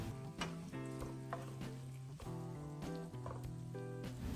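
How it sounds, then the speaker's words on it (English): Chicken gizzard sauce sizzles in a pan as it is stirred, with a crackling frying hiss under rhythmic scraping and clinking of the spoon, and no one speaking. "I'm just going to keep stirring and allow it to cook for about 2 minutes"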